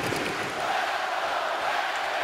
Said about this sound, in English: And listen to this sellout crowd.